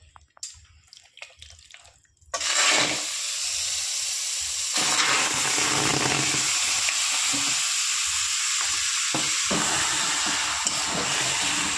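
Marinated chicken drops into a pan with a sudden loud sizzle after a few quiet clinks, then keeps frying with a steady, close hiss and occasional stirring scrapes.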